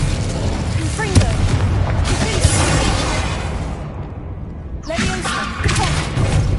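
Explosive Confringo spell bursts in Hogwarts Legacy, loud booming blasts with crackling debris over a dense game soundscape, a brief lull then another burst, a voice calling out the spell.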